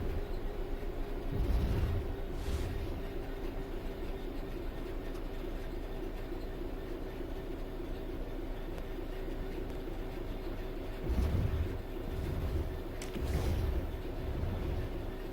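Train coasting on level ground in Train Sim World 3, a quiet steady low rumble and hum of the rolling train with a few soft thumps from the track, continuous and unhurried.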